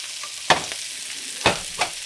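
A burger patty sizzles on a hot griddle after being smashed, a steady faint hiss broken by three soft crackling pops, with no voices.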